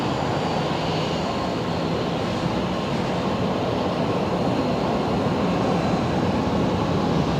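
Jet aircraft at Brisbane Airport roaring steadily at a distance, a broad continuous rumble holding the same loudness throughout, with no voices.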